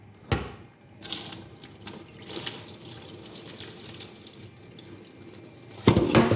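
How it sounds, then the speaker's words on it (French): Rice being rinsed by hand under a running kitchen tap: steady splashing water with swishing and the clatter of grains in a bowl, close and fairly loud, swelling at the end, with no talking. "Rincez votre riz, c'est pour ça qu'on vous dit de rincer le riz."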